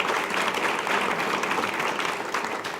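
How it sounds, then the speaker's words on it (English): A crowd applauds steadily for a few seconds, a dense, even patter of many hands that tapers off slightly at the end. "I would love to give a round of applause for that."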